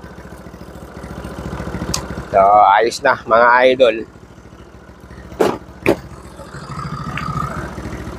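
A motorcycle engine idles with a low, steady putter after being revved, while someone talks loudly over it in the foreground.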